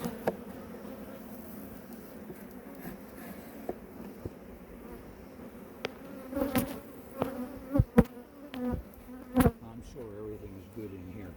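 Honeybees buzzing around an open hive during beekeeping: a steady close-up drone of many insects with single bees passing near the ear, plus occasional knocks and clatter from working the frames.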